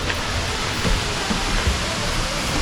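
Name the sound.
Cascade Falls waterfall rushing, Vancouver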